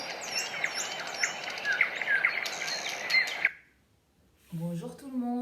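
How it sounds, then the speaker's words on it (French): Birdsong recording played loudly for a morning meditation: dense chirps and whistles fill the first three and a half seconds, cut off abruptly to near silence, then a short run of different, lower whistled bird notes returns. "quand je mets les oiseaux forts pour la méditation du bonjour, on m'entend plus"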